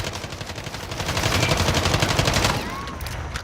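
Holger 26 machine gun from Call of Duty Modern Warfare fired in one long continuous burst, loud, rapid and close, with the trigger held down throughout before the shots stop.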